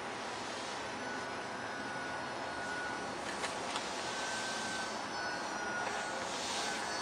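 A small engine drones steadily at a distance, the whine of a radio-controlled foam 3D profile model airplane holding its pitch as it flies, with no voices.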